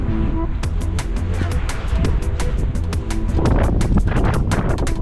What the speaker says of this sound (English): Ooh, that's windy.